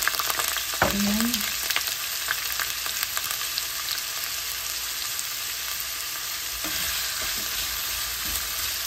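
Vegetables frying in hot oil in a pan give a steady, close, loud sizzle throughout, with a brief stirring scrape and clatter near the start and again later.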